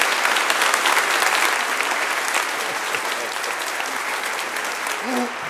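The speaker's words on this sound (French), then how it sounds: "on va les applaudir très très fort" A church congregation at a Sunday Mass in Vauréal applauding, a dense, sustained wash of clapping from many hands filling the building, with a few faint voices underneath.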